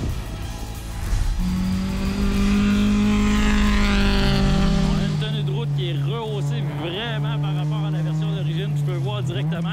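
A Mazda MX-5 engine revs, its tone climbing steadily toward a raised rev limit of about 7500 rpm, then settling into a steady drone as someone talks over it.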